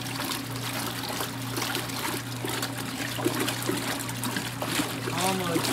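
Water splashing and trickling into a boat engine's catalyst while the engine is flushed during spring unwinterizing, a steady wet splatter over a low engine hum with some faint voices.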